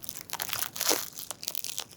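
Close crunching bites into a crisp ricotta and apricot baguette, a few dry crackling bursts in quick succession, no voices.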